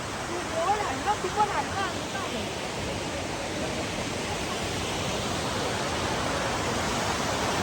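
Steady broadband rush of a waterfall on the mountain road between Gangtok and Lachung, filling the scene continuously, with a few brief voices near the start.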